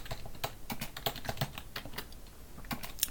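Rapid, uneven clatter of fingers typing commands on a computer keyboard in a terminal, keystrokes tapping out close and fairly quiet with no voices.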